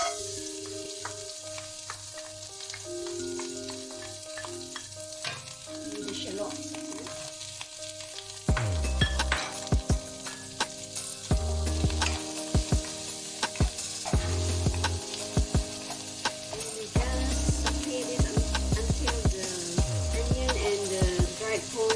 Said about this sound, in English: And now I'm going to fry my dried prawns.